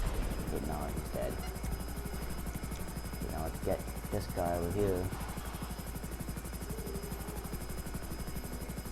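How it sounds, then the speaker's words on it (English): FH1 Hunter attack helicopter in GTA Online, its steady rotor drone running throughout at an even level beneath a voice talking over it. "another thing about this helicopter is that this helicopter climbs up altitude very quickly"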